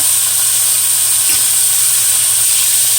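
Chicken sears in a very hot skillet over high heat, giving a loud, steady close hiss and sizzle with no talking.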